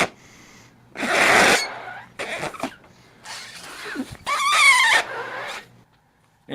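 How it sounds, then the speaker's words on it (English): Air blows between the thin pages of a book, making several bursts of breathy fluttering and rustling with quavering buzzy tones, separated by short pauses and heard up close. "You actually go ahead, put your mouth on between the pages and blow."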